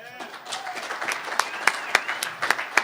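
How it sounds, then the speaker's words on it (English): Conference audience at a DEF CON security talk giving a round of applause, scattered claps with a few sharp distinct hand strikes, while a presenter speaks over it. "Round of applause for Kyle"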